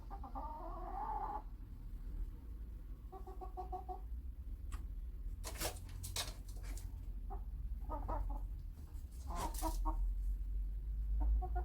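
Several chickens cluck in short bursts, close by, with a low steady hum underneath and no talking, while being fed grain.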